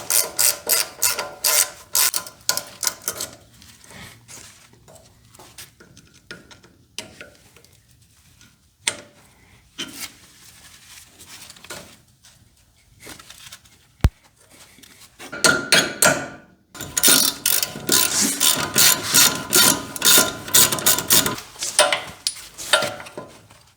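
Hand tools rattle, clank and ratchet while the old upper control arms come off a third-generation Toyota 4Runner, with bursts of metallic clatter and ratcheting separated by quieter pauses, then a louder sustained stretch of rapid working near the end.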